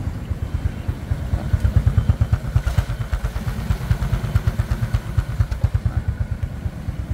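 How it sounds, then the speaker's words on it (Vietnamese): A 2007 Honda Future Neo GT motorcycle engine idles steadily up close, with a fast, even chugging pulse and light mechanical clatter running throughout, no voices. "trời máy nổ hoài không tắt máy nha nãy giờ"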